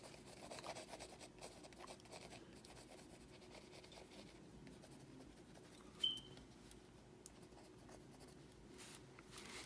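A pencil shades a drawing of Thanos in a steady, soft rasping rub, very close and faint, with a light tap near the middle and no voices.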